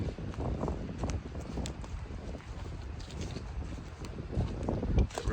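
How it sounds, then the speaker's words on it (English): Cold wind gusts through a forest beside a reservoir at a state forest campsite, a steady rough rushing with buffeting microphone noise throughout and no clear talk. "I think it's cold and windy."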